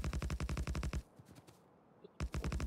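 Automated gun turrets in the Factorio factory-building game fire rapid, loud streams of shots, a sustained volley, then a quiet pause with faint scattered impacts, then the rattling fire resumes.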